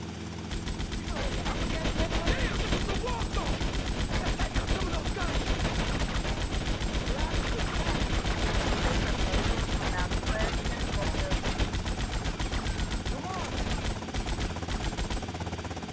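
Sustained dense automatic gunfire from a helicopter in GTA Vice City Definitive Edition, loud and continuous with engine rumble beneath, no clear talk over it.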